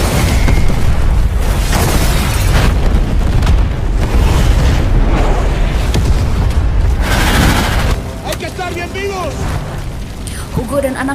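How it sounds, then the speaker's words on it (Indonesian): A landmine bomb detonates under a car in a Rambo: Last Blood action film scene, a loud sustained booming roar with rumbling debris that tapers off, with scattered shouts and effects near the end. "salah satu mobil menginjak ranjau dan bom pun meledak"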